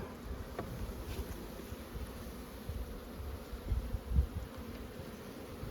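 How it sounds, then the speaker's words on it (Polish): Honeybees flying around an apiary in early spring, a faint, steady buzzing of many insects close by, with soft low thumps underneath and no voices. "żebyście Państwo zobaczyli, jak ładnie dzisiaj pszczoły latają"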